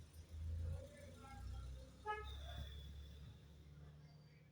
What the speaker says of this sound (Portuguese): tá passando muito carro aqui, gente falando.